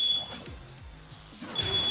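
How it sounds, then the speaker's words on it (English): Fire alarm beeping inside a house, a thin steady high tone running at the start and returning near the end, faint beneath soft background noise. "Is that a fire alarm?"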